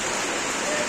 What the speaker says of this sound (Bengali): সাংঘাতিক বৃষ্টি